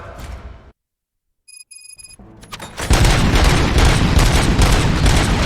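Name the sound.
gunshots in the RoboCop: Rogue City video game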